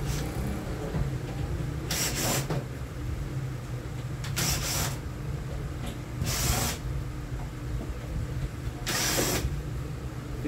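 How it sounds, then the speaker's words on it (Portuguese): Screws are removed to take apart an electric oven, giving four short scraping, rasping bursts spaced a couple of seconds apart over a low steady hum. "Retiramos aqui todos esses 6 parafusos."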